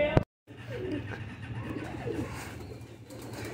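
Ali wale pigeons cooing softly in a low, rolling murmur after a brief sharp sound at the start, faint and close with some background hum.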